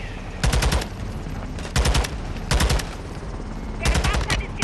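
Automatic gunfire in Call of Duty: Modern Warfare II (2022), heard as four loud, close bursts spaced about a second apart over steady background game noise.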